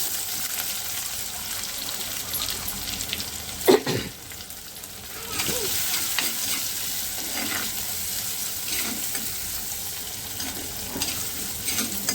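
Garlic and chopped onion sautéing in a pan for a stir-fried guava leaf dish, a continuous close sizzle with occasional stirring scrapes and one sharp clatter, no voices.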